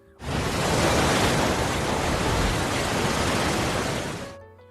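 A deep, steady rush of a fast river current in a film scene, broad and roaring, rising quickly, holding constant at full strength and then fading out at the end, with no voices.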